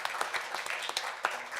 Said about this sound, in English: let's give a nice round of applause for Educators Credit Union